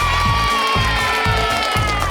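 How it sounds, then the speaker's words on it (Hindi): A crowd of cartoon children cheers and claps for a recycled costume, a loud, continuous burst of shouting and applause over a steady rhythmic music beat. "चलिए सब चाचा और उसके डैड के लिए ताली बजाते हैं"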